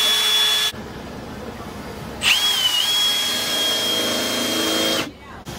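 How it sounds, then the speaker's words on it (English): A power drill whines in bursts: one short run, a pause, then a long steady high-pitched spin that winds up and cuts off, close and loud. "Right side drill bit."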